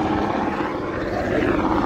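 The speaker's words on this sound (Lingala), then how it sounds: "Oh, hélicoptère ezolinga kitame" A helicopter passes overhead near Goma, its steady broadband rotor and engine roar filling the whole stretch with an even, loud wash and no gaps.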